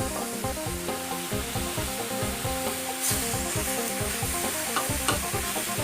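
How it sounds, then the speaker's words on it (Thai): Chinese kale being stir-fried in a hot pan, with steady loud sizzling and a rhythmic scraping and stirring of a utensil that runs through the whole stretch, close to the microphone and with no voices. "ผัดคะน้าต่อครับ"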